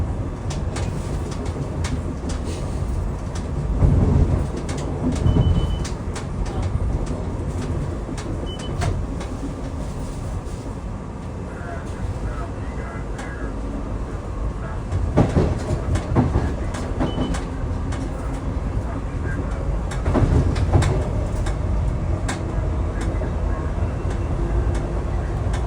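SEPTA train ride from Philadelphia to Wilmington, Delaware: continuous rumbling rail noise from inside the moving train, with periodic louder clatters and bumps over track joints.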